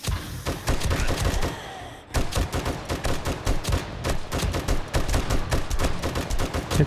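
Rapid, dense bursts of automatic gunfire crackle almost continuously during an outdoor horde night in the VR game 7 Days, with a brief lull before the shooting resumes at full intensity.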